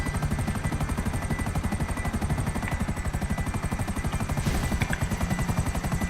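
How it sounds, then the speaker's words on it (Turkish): A helicopter in GTA 5 thumps with a fast, steady rotor beat, loud and close, the rhythmic chopping pulses running unbroken over a whining engine drone. "O kuleye helikopterle çıkacağız."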